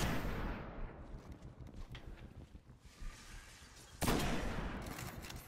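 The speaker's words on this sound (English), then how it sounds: "let's just stand back with a sniper rifle for a second and pick these guys off the old-fashioned way" Sniper rifle fire in the video game Destiny: a loud, sharp shot cracks out near the end, with another burst at the start, over a rumbling combat ambience with no talking.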